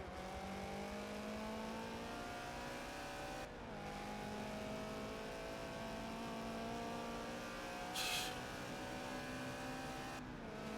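B-Class race cars in Forza at Road Atlanta accelerating down the straightaway as a tightly grouped pack, steady droning engine whine held throughout with a brief squeal-like burst near the end, no talk.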